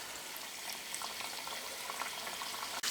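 Rice flour batter dropped into hot oil for a Kerala snack, a steady close hiss and fizz of frying that fills the whole stretch without voices.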